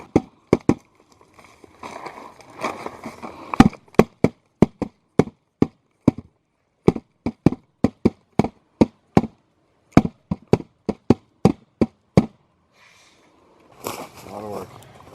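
Someone plays a hand drum outdoors beside a campfire in Colorado. Sharp, close strikes come in loose, uneven runs, then stop for a short gap. A voice is heard briefly at the end.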